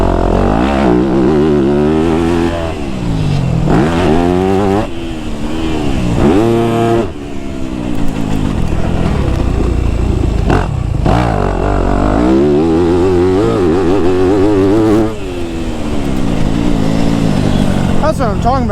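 A Yamaha YZ250F four-stroke dirt bike engine revs hard and repeatedly through the gears while trail riding, its rising and falling pitch sweeping steadily and loud throughout, close to the rider, with the rider talking over it.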